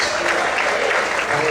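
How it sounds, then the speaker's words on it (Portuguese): A church congregation applauds in a dense, continuous wash of clapping that fills the room, loud and close, with voices mixed in underneath. "Você pode aplaudir o Senhor nessa noite?"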